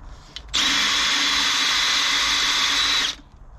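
A power drill with a 4mm bit bores into a soft bolt on a Fordson Major tractor brake, whining loud and steady for about two and a half seconds before stopping abruptly.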